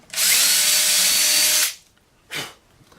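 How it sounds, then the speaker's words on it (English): A power drill whirs steadily at close range for over a second while boring holes in a 2x4 piece of wood, then stops, followed by a brief second burst. "So we're just going to keep drilling as close to the next hole as we can."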